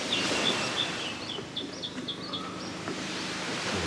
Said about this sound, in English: The birds waiting for a drink.